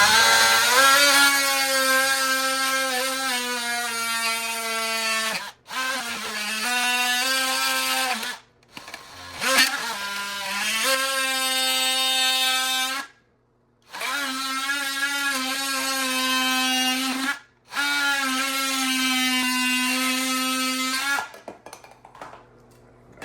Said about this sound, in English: I'm using this right here. What is it? Like a orbital type of thing. So I'm gonna just cut it right there.